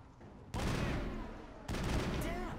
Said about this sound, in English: Assault rifle is primary weapon.